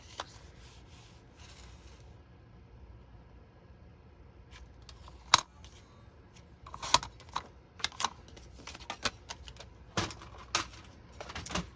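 Scissors cutting paper to size for a handmade dos-a-dos journal: a quiet run of small, crisp snips and clicks, scattered irregularly and growing busier toward the end over a faint room hush.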